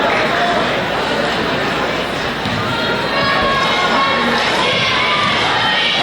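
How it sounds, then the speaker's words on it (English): A large, noisy high school basketball crowd at Freeport at Highlands cheers and shouts steadily as fans head for the exits, with a commentator talking over the din. "this big crowd heading to the exits happy from the Highlands side"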